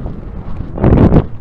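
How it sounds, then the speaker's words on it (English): Wind buffets an outdoor microphone, a steady low rumble that swells into a louder gusty roar near the end, with no voices. "Now we're facing into the wind."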